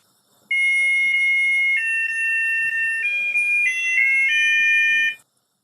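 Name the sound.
musical egg timer beeping in water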